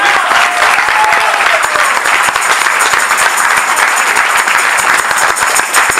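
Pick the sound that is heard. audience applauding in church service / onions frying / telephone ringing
audience applauding in church service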